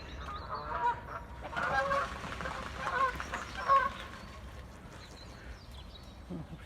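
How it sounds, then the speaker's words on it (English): Two Canada geese honk repeatedly while a swan chases them, a cluster of loud, harsh calls in the middle of the clip that fades into quieter outdoor background toward the end. "Two Canadian geese have moved in and the swan is not happy, chasing them around. They're making a heck of a noise this morning."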